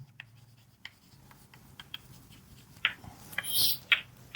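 A heading is written during a physics lesson on projectile motion, with faint, close scratchy strokes and taps of pen or marker in short bursts, growing louder toward the end.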